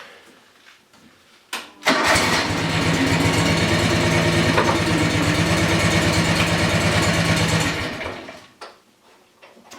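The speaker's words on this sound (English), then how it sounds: "we'll have to crank the machine up, lift the deck up." A John Deere mower engine cranks and catches, then runs at a steady, loud idle for about six seconds before shutting down and fading out, with no talking.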